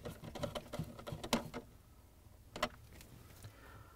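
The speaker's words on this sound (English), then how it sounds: "now I'm going to secure this motor to the housing with this quarter inch screw" A quarter-inch screw driven to fasten a GE refrigerator icemaker blower motor to its plastic housing, with a quick run of small clicks and ticks, a pause, then a few more sharp taps, close and fairly quiet.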